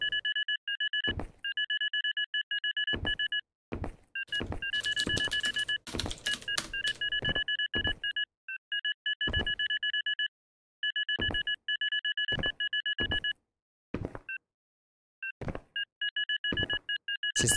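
Sonar pings in the Xonotic defrag game, a steady series of bright two-tone electronic beeps repeating with short gaps and brief breaks, broken by sharp clicks and bursts of in-game noise, with no talk.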